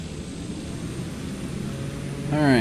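Aircraft engines running up in Flight Simulator 2020, a steady broad droning rumble that swells louder near the end as a rising tonal whine joins in, with no voices.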